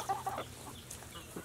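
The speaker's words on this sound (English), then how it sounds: "These are finished out laying hens." Finished laying hens weighing around six to eight pounds cluck in a short burst near the start, a few quick close calls that fade into quiet farmyard background.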